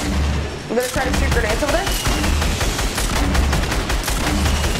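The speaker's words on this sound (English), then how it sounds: "I'm gonna try to shoot grenades." Grenade launcher shots in Fortnite fire amid a dense, continuous barrage of gunfire and explosions, with a player speaking briefly over the noise.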